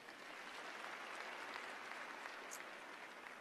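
A crowd at a university ceremony claps in sustained applause, an even, dense patter heard at a moderate distance for a few seconds without pause.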